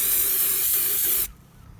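A steady, loud aerosol hiss as spray paint lays a second coat on a Traxxas Slash RC car body, held close for over a second before cutting off abruptly into quiet.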